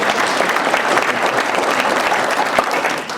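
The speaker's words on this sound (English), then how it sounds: "let's just all have a round of applause" A Christmas concert audience gives a full, close round of applause, crisp individual claps standing out in the steady mass before it starts to fade near the end.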